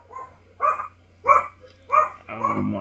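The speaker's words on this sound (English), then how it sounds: "Sorry guys about the rude dog." A dog barks four times in steady, evenly spaced, mid-pitched barks, with a longer whining bark at the end, close and clear over a low hum.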